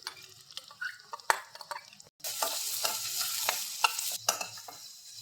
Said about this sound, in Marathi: थोडंसं ब्राऊन झाले की आपल्याला कांदे टाकायचे आहेत। बारीक चिरून घेतलेला कांदा टाकायचा आहे।